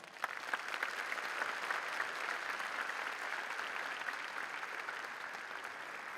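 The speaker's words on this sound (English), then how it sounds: "So let's give them a huge round of applause." Graduates' families and guests at a university science convocation give sustained applause, a steady wash of many hands clapping, heard from a distance and fairly soft.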